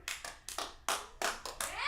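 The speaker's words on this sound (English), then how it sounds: "Don't clap for that." A small comedy open-mic audience claps in short, separate bursts, about seven quick rounds of clapping close together, each fading quickly, with no one speaking.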